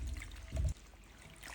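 Washed bathua greens draining in a strainer, a soft, fairly faint trickle and dribble of water with a brief louder gush near the middle, then a quieter steady drip, with no voices.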